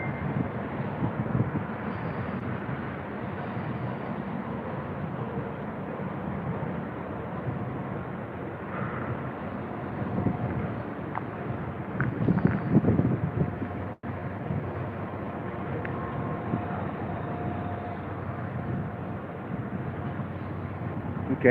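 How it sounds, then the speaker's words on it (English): A train passes by outside a building, a broad steady rumble with wind buffeting, swelling slightly midway before continuing at a constant moderate level with no one talking. "There's a train going by."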